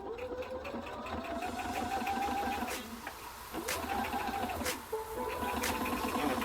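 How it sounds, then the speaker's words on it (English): A sewing machine back stitches brown thread down a hooded towel, its motor whirring steadily with a rapid needle rattle, interrupted by brief pauses and a few sharp clicks, close and with no talking. "we're going to start with a back stitch and go all the way down"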